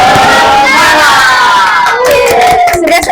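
Children chanting and clapping the tepuk semangat cheer together in a classroom, a loud, continuous group of young voices with rhythmic hand claps underneath.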